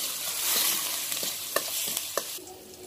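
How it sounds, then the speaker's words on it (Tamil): Chopped onions and salt sautéing in a pan for chana gravy, a soft, quiet sizzle with a few light clinks and scrapes of stirring near the end. "நறுக்கின வெங்காயத்தையும் உப்பையும் ஆட் பண்ணிடுவோம். இது நல்லா வதங்கட்டும்"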